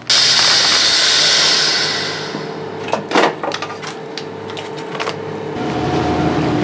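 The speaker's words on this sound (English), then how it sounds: "Now we just have to vacuum seal." A vacuum sealer pulls air from a bag around a meatloaf in a pan for sous vide, a loud steady pump hiss followed by clicks and thuds as the seal closes, then the motor resumes.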